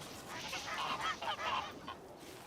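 Geese honking on a North Korean cooperative farm, a few rough, nasal calls bunched in the middle over a hazy background hiss, moderately distant.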